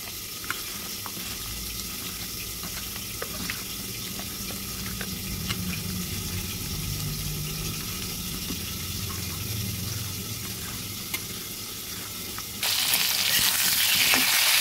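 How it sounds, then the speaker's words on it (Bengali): Papaya and potato cooking in a covered pot for desi chicken curry, a steady low sizzle with soft scraping stirs throughout, growing louder and brighter near the end as the lid comes off. "পেঁপে আলুটা একটু ঢাকা তুলে নেড়ে দিচ্ছি"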